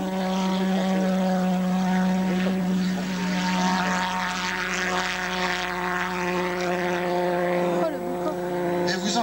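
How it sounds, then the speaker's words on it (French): A pulsejet-powered model aircraft performs a touch and go at a 2002 air meeting in Til-Châtel, giving a loud, continuous buzzing drone with a strong harmonic tone that shifts slightly in pitch as it passes. "C'est un pulsoréacteur."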